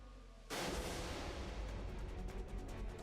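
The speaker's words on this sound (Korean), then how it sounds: "잠시 후 들려온 한 발의 총성." A single gunshot cracks out suddenly near the start, then its blast rolls on in a long, rumbling, reverberant decay.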